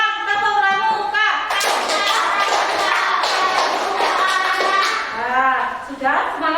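Schoolchildren in a classroom clap the tepuk pramuka scout pattern together, a rhythmic run of sharp group claps lasting several seconds, framed by a teacher talking before and after.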